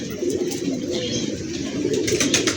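Soft, low cooing from a highflyer pigeon rumbles steadily close by, with faint rustling and scattered higher chirps over the top.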